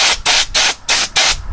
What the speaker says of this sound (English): So I'm going to go ahead and spray the battery connections.